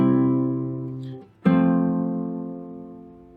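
Two sustained classical guitar chords, the bass rising while the upper voices step down, each ringing out and slowly decaying, with a brief gap and a fresh strum at the change, clear and solo.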